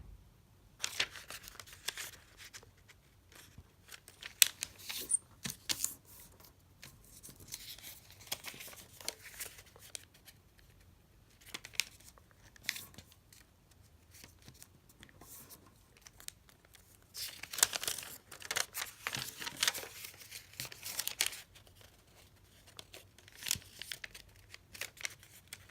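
Origami paper is folded corner to corner, heard as quiet, intermittent crinkles and soft creasing rustles, with a few brief louder crackling bursts close by.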